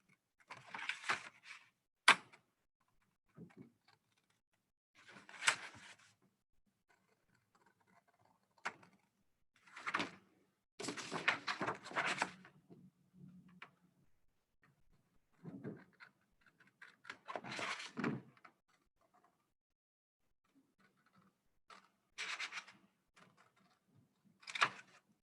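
Paper being cut slowly along a drawn line with scissors to make paper beads, heard as scattered short crisp snips and rustles separated by quiet pauses, fairly faint and close.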